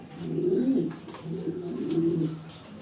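A German Beauty pigeon of Andalusian colour, one of a breeding pair, gives soft low cooing in two rolling phrases, close and alone.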